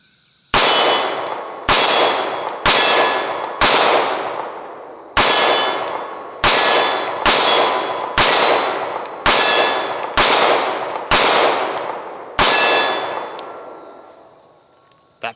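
A Taurus G3C pistol fires through its second magazine: about a dozen sharp, loud reports at an irregular pace, each with a ringing decay, one after another with no talking.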